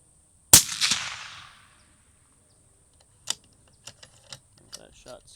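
A single suppressed 6.5 Creedmoor rifle shot through a CanCo TAC 33 suppressor: one sharp, loud crack with a short decaying tail, followed by a few faint scattered clicks and taps.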